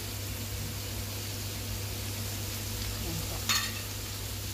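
Beef stirred in a frying pan with black pepper and chili flakes, a steady sizzle with scraping stir strokes throughout and a brief louder clatter near the end.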